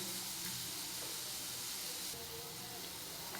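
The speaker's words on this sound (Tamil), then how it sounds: "நல்லா கொதிக்கட்டும், கொஞ்சம் வெந்து வரட்டும்." Pasta boiling in salted water with a spoonful of oil, a steady broadband bubbling hiss that holds fairly even and close throughout, with no talk over it.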